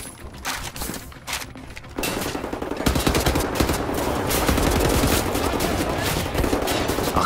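Enemy gunfire rattles in Wolfenstein The New Order, sparse shots at first, then dense sustained automatic bursts, loud and continuous under faint game sounds.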